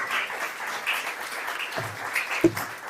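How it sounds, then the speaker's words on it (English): An audience at a national child protection workshop keeps applauding in a soft, steady patter of clapping heard from a distance, with a couple of louder thumps near the end. "Let's keep clapping till she gets to her seat."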